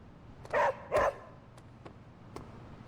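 A dog in the video game Marvel's Midnight Suns gives two quick close barks in succession, followed by quiet background and faint clicks.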